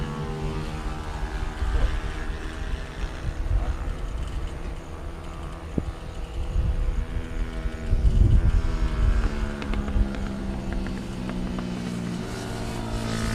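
A TVS Apache RTR 200 race motorcycle drones past the start line at a national motorcycle championship round, a sustained engine tone that swells louder toward the middle then holds steadily over background track noise.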